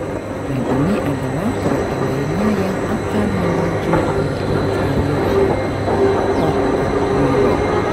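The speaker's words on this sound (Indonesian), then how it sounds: "Ini adalah kereta lainnya yang akan menuju" A Swiss mountain train near the Eiger, Mönch and Jungfrau rumbles steadily nearby, its low drone and rattling wheels continuous throughout, with faint squeals riding on top.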